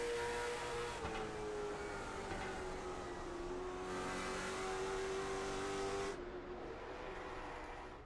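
Late model stock cars race around North Wilkesboro Speedway in a CTC Late Model Tour event, a loud sustained engine drone with rising pitch as the pack circles, one car's note sweeping steadily and the roar dropping off sharply near the end.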